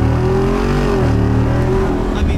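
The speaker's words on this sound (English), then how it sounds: "I actually think that this engine in this tune sounds better than like the TRX and the supercharger." A Jeep engine revs hard through its exhaust, a loud, deep rumble with rising and falling pitch that holds steady and close throughout.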